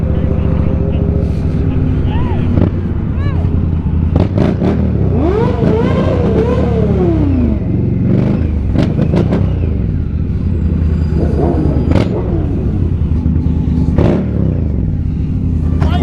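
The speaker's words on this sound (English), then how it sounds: "I revved it like I opened the throttle" An MV Agusta motorcycle engine is revved hard with the throttle opened, its pitch sweeping up and down in repeated surges, loud and close, with people talking over it.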